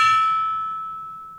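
A gong struck once at a sports talk show rings out with a bright metallic tone that decays slowly over about a second and a half, with no voices.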